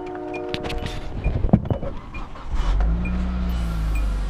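A car engine with overfilled oil cranks and starts after some clicks and clunks, then settles into a low steady idle, close by with no talking.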